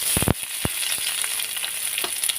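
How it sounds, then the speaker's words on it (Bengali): Chopped onions hit hot oil with dried chilli and curry leaves for a dosa chutney, giving a steady close sizzle with a few sharp crackles and spatters near the start. "এখানে কোচানো পেঁয়াজগুলো দিয়ে দিচ্ছি"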